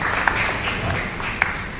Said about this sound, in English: let's give some round of applause to actually District 6 for sponsoring the venue here